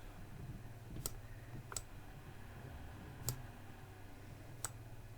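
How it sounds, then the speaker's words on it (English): Sharp mouse clicks while editing a design in Canva, four separate faint clicks spaced irregularly over a low steady hum, no talking. "Sometimes you have to click off and on again."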